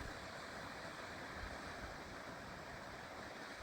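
A fast-flowing river among trees in the mountains of Tasmania gives a steady, dense rushing wash with no breaks, fairly faint and alone.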